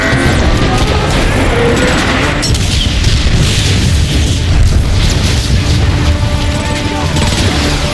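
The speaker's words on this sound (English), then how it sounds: "I'm curious as to what an artillery strike would do to that marauder" An artillery strike in the Transformers: Fall of Cybertron video game unleashes a dense barrage of loud, continuous booming explosions and crashing debris, with no pause for the full length.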